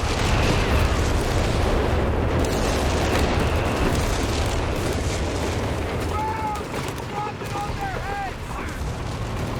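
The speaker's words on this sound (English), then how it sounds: "Is that like a time barrage there from Brumbear?" Artillery barrage explosions in Company of Heroes 3, a 2v2 match on the Dunkerque map, rumble as a dense, continuous wash of booms, with faint chirping game effects near the end and a commentator speaking over it.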